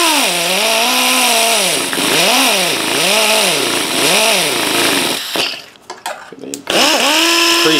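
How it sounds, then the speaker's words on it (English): A die grinder whines at high pitch while shaping the neck of a Martin D-16 guitar, rising and falling in repeated strokes up close, then cutting into a few short bursts. "So taking that die grinder again,"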